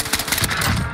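Rapid bursts of gunfire in a shooter video game with an SKS rifle, dense, loud, overlapping shots through a one-second burst, with no speech.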